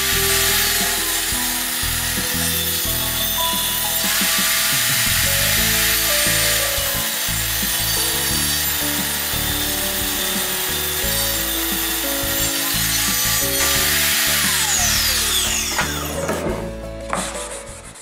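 A saw cuts wood strips for an airbrush spray booth, giving a loud, continuous rasping whine with shifting pitch that runs for the whole stretch and tapers off at the end.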